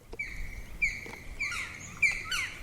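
Several sharp, bright bird calls ring out in short bursts, some with a nasal honking quality, repeated irregularly against a quiet background.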